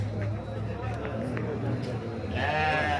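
Sheep or goats bleat near the end amid the low hum and crowd chatter of an open-air goat market in Canafístula de Frei Damião, Alagoas, with people talking throughout.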